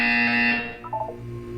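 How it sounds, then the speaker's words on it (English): A buzzer sounds in the video game Portal 2: a loud, steady electronic tone lasting about half a second, then fading into a softer, wavering electronic hum. "You will hear a buzzer."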